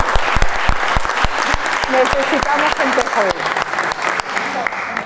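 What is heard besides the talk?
audience applause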